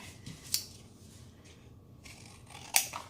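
Scissors snip paper for a junk journal page, with two distinct crisp cuts, one early and a louder one near the end, separated by a quiet stretch.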